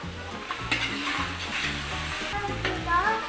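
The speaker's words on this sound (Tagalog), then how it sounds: "Dahil medyo brown-brown na siya, maglalagay na tayo ng butter." Butter melting and sizzling in a hot pan with browning hotdogs, a loud, steady close-up fry with stirring scrapes running throughout.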